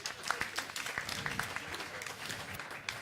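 An audience applauding a panel at the 2024 International Tourism Summit in Oyo State, with steady, moderately loud clapping from many hands throughout.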